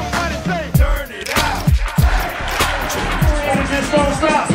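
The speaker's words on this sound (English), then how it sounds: "Clap your hands, everybody, and everybody, clap your hand to the people over there." A concert crowd at the Espy in St Kilda claps along in a steady rhythm during an MC's hip-hop set, sharp repeated hand claps ringing over crowd noise and amplified music.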